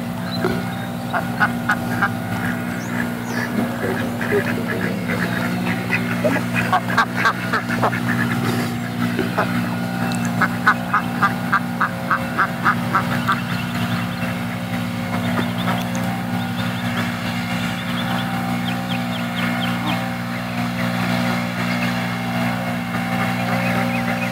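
Ducks walking across a seaside green, quacking in repeated bursts over a constant low engine-like drone, with people talking nearby.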